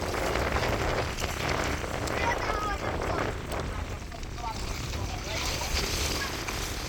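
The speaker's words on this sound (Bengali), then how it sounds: "প্রচুর পরিমাণে বাতাস নদীর পাশে" Strong cold wind buffets the microphone in a steady rushing roar beside the Jamuna River, with people talking underneath.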